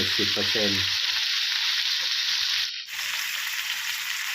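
Loud, continuous sizzling of pork belly stir-frying in a pan, with a brief low voice or clatter at the start and a short dip near the end.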